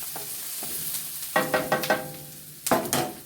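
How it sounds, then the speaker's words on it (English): Onions and vegetables fry in a pan, a quiet sizzle broken by bursts of scraping and clattering as a utensil stirs them, close and with no talking. "Our onions are looking very translucent,"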